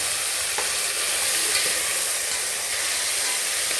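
Chopped tomatoes stirred into onions frying in hot oil, a loud, continuous close sizzle with light stirring scrapes and no voices.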